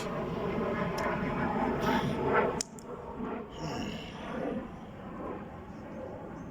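An airplane passing overhead near an airport, a broad roaring drone that builds, drops abruptly and lingers as a softer rumble, with a person talking over it.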